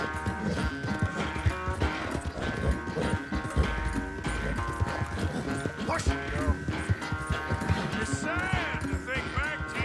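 Horse hooves clip-clop steadily in the Red Dead Redemption 2 video game, blended into a busy game mix with music and someone talking over it.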